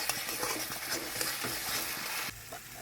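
Pointed gourd pieces sizzle and fry in a hot pan, a steady dense crackle with occasional scraping stirs, loud and close, easing slightly near the end.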